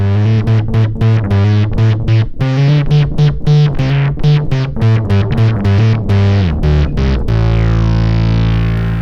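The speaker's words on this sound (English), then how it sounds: "you can get a wide range of distortion sounds" Heavily distorted synth or guitar tones play a choppy rhythmic pattern, loud and gritty, then sustain into a buzzing held note.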